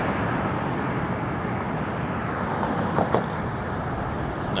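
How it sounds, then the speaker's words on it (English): An Air Canada Boeing 787 Dreamliner inbound from Seoul lands at Toronto Pearson Airport, a steady broad roar of jet noise that holds throughout, with a couple of faint knocks near the end. "we got a Dreamliner coming in from Seoul, Air Canada 62"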